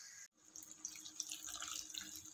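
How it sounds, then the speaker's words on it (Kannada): Water poured into a pan of ivy gourd semi-gravy curry makes a soft, close trickle and splash after a brief pause, quiet and continuous for about two seconds. "ಸ್ವಲ್ಪ ನೀರು ಕೂಡ ಆ್ಯಡ್ ಮಾಡ್ಕೋಬೇಕು, ಇದರಲ್ಲಿ"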